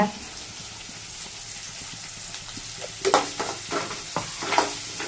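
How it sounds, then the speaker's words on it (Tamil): Chopped onions and curry leaves frying in a pan, a soft continuous sizzle with sharper stirring scrapes and clatters toward the end, close up. "வெங்காயம் போட்டுக்கலாம் கருவேப்பிலை போட்டுக்கலாங்க"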